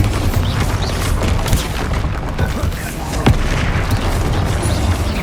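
Bombarda explosion spell cast in Hogwarts Legacy on PS5 during a combat duel: dense low booms and crackling blasts roll continuously over about five seconds, with a sharper burst near the middle, loud and close amid ongoing battle noise.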